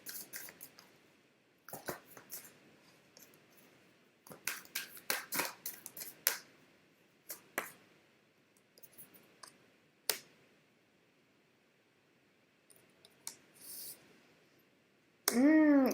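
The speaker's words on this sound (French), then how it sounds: "je vais prendre une carte en plus" Tarot cards are handled and an extra one drawn: crisp snaps and flicks of card stock come in clusters with quiet gaps, and a louder rustling burst closes the clip.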